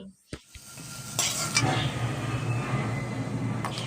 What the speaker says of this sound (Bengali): হলুদ দিয়ে বেগুনটাকে একটু ভেজে নেব